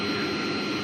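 Engine of a Piper Cherokee light training airplane in flight, a loud, steady, unbroken roar filling the cabin without a break.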